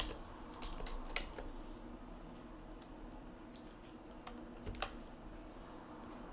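Typing on a computer keyboard in a quiet room, soft scattered key clicks over a low steady background hum, faint and irregular.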